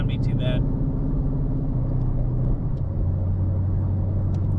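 A 2017 Ford Mustang GT fitted with a DIY welded cargo carrier drives on the road, its engine and road noise a loud steady low rumble heard from inside the car, with a voice speaking over it.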